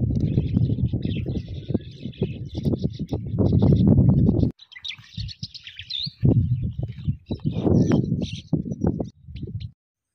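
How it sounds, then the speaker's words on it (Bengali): Birds call on a green riverside char of grassland and fields, a red-wattled lapwing among them, with sharp high chirps scattered through the clip over a steady low rumble of wind or handling noise. "মাঝে মাঝে পাখির আওয়াজ শোনা যায়"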